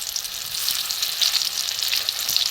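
Steady, close hiss of shrimp-shell fritters frying in shallow oil over a lowered gas flame, crackling with small bright pops throughout and nobody speaking.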